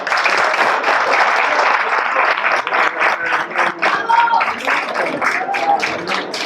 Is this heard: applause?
yes